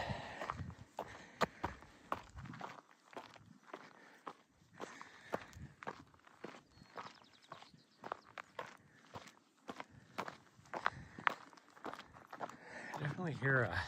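Rhythmic footsteps pound a dirt trail during a morning run, each stride a dull close thud with crunchy scuffs, steady and quick, mixed with the runner's heavy panting breaths throughout.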